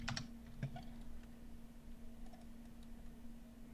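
A computer keyboard is tapped during a modeling session, with the Control and Backspace keys pressed in a few quick, light clicks near the start and then sparse faint taps over a low steady hum.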